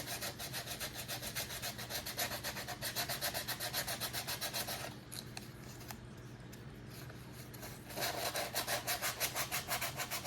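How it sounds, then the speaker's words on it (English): Steady rhythmic abrasive rubbing on a hand-whittled walnut wood piece being shaped for a fish tank, quick back-and-forth strokes close by that pause briefly midway and then resume, no talking. "Sanding on it a little bit more."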